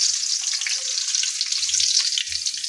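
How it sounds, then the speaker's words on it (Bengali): Dried red chilies frying in hot oil while cooking Malabar spinach, a steady bright sizzle running loud and continuous throughout, with a few soft low knocks of stirring. "তেলের মধ্যে মরিচগুলো একটু এদিক ওদিক করে ভেজে নেবেন। তারপর এখন মরিচ ভেজে নিচ্ছি"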